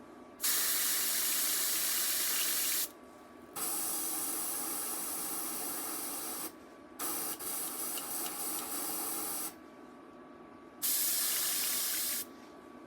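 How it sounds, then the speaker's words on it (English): A small-needle airbrush sprays metallic paint in several bursts of steady, close hissing air, each lasting a couple of seconds with short quiet gaps between them, and no one talking. "This airbrush is being finicky."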